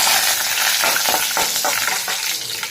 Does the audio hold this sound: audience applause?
no